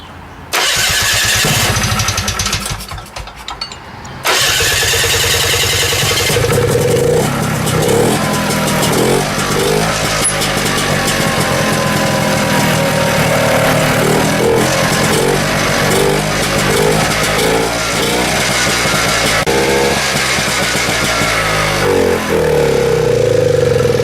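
A 1973 Ski-Doo Rotax snowmobile engine fitted to an older go-kart cranks, sputters briefly, then catches and runs loudly, revving up and down repeatedly in rough, buzzing bursts close by.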